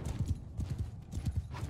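Cavalry horses gallop in Mount & Blade II: Bannerlord, a rapid, rhythmic clip-clop of hooves close by, repeating in quick bursts with a faint whinny, and a voice briefly audible underneath.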